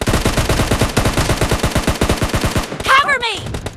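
Gunfire in the mobile battle game PUBG Mobile: a rapid, loud burst of regular shots that stops abruptly, followed by a short whooshing, swirling effect, heard close with no talk.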